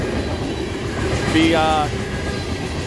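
A freight train rolls past Gibbon Junction in Nebraska as a steady, loud rumble of wheels and cars, with a brief squeal partway through, continuous for the whole stretch.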